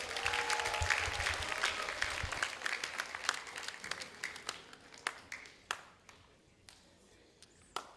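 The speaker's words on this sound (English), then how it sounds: "Let us give a round of applause to Josiah Tony" An audience at a secondary-school debate grand final between Busu Secondary and Lae Secondary in Lae applauds, a dense wash of clapping that gradually thins into a few scattered, distinct claps before fading out.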